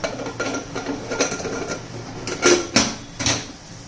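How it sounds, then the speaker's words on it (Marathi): A metal lid being fitted onto a pressure cooker in a home kitchen: a few sharp clanks and scrapes of metal on metal, close and fairly quiet, with no talk. "आपण झाकण लावून घेऊया."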